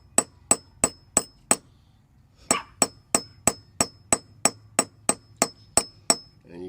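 A hammer taps a copper bullion coin being formed into a ring, giving about sixteen sharp, ringing metallic strikes in a steady rhythm, close and clear, with a brief rustle midway.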